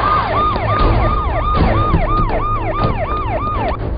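Police siren wailing in a rapid, repeating up-and-down pattern, loud and close, sounding continuously with a low engine rumble beneath it.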